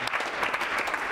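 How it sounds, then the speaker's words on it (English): Audience applause for a guest speaker at a youth talk, a dense, steady wash of clapping throughout the short stretch with no voices over it. "Let's give a round of applause for Coach Brown."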